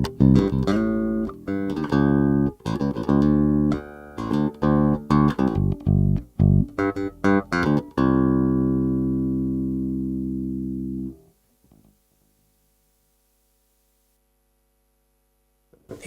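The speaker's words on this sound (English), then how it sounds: "Now I'm going to play something with the brightness switch turned on and then turned off" Bass guitar played through an Artist Guitars BP150 150-watt bass amp combo with the brightness switch on: a run of plucked notes and sustained tones for about eleven seconds, loud and close, ending on a long held note that decays into silence.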